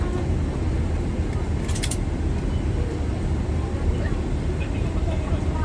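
Saudia flight 739, an airliner departing Lahore, gives a steady, heavy engine roar heard from inside the cabin, a continuous broadband rumble with faint voices and brief clicks mixed in.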